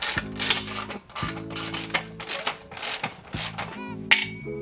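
A socket ratchet clicks in quick bursts while loosening bolts on a Honda Grom motorcycle, several close, sharp runs of pawl clicks separated by brief pauses.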